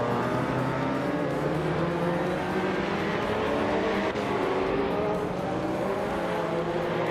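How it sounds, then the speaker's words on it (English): Video game race cars, including a classic BMW M3 E30, roar together in a steady, dense drone of engines that holds loud and constant without breaks. "302 is driving a classic BMW M3E30."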